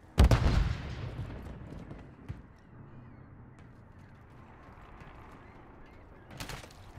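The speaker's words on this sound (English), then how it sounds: "Stun grenade out!" A stun grenade blasts in a Call of Duty match, one sharp loud bang followed by a fading rumble and scattered distant gunshots, ending with another burst of fire.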